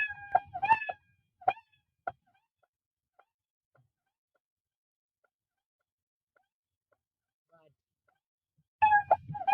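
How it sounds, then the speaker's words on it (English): A few short cat meows from a Scratch programming sound effect at the start, then near silence for several seconds before another pair of meows at the end. "It is emitting the sound meow without stopping any time."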